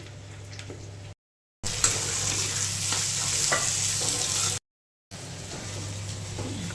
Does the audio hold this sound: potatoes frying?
yes